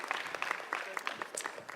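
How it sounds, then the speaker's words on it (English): A crowd at a live comedy podcast taping at a fan convention claps in a short, patchy burst, with separate hand claps ringing out and a faint murmur underneath. "round of applause, sure."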